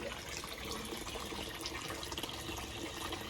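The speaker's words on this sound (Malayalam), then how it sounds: "അത് വെള്ളമൊക്കെ സൂപ്പറായിട്ട് പച്ച പോലെ വീഴുന്നുണ്ട്" Water splashes continuously from a homemade pond filter for a large fish tank, a steady, close trickling and pouring with no pauses and no voices.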